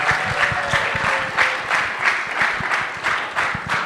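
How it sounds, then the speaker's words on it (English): A small audience at a family talent night claps for a young singer after her song, giving a short burst of close, moderately loud applause with a few distinct individual claps. "Let's give one more round of applause for Ellie."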